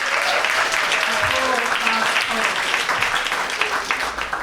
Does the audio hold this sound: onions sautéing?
no